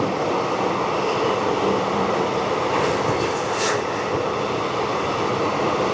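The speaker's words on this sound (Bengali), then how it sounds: "আমাদের ট্রেন এই মুহূর্তে এসে পৌঁছালো তার যাত্রাপথের 5ম স্টেশন" A train on the Katra to Srinagar line in Kashmir rolls into a station, giving a steady loud rumble of wheels and carriages with a brief metallic squeal midway.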